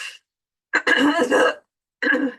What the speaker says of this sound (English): you passed on your cough to me